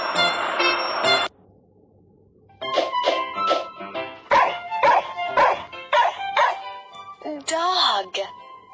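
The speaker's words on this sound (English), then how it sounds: "Dog." A dog barks in a series of sharp, loud yips and barks, rhythmic and close, ending in a whimpering whine, after a brief voice before a pause.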